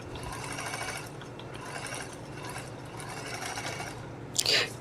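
Sewing machine stitches tucks on a sheet of paper, a close, steady mechanical whirr running throughout, with a brief sharp clatter near the end.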